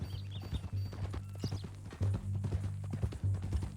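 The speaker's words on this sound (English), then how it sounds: "That a new horse?" Horse hooves clip-clopping at a walk in Red Dead Redemption 2, a steady uneven rhythm of close soft hoof knocks over a low humming drone, with faint tack jingles.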